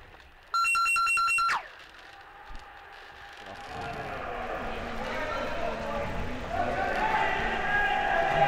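A phone rings out with a loud, sustained electronic tone for about a second at an underwater hockey world championship match between Japan and the Netherlands, followed by crowd murmur and voices in a large hall.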